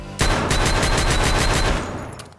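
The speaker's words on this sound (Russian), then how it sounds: "Звук выстрела без наушников очень громкий" A rapid burst of loud gunfire in the video game Escape from Tarkov, several shots fired in quick succession close by, then fading away with a short echoing tail.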